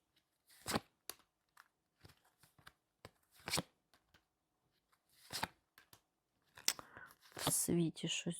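Quiet, intermittent riffling and snapping of playing cards being shuffled and laid out for a card-reading spread, with brief pauses between bursts and a faint voice near the end.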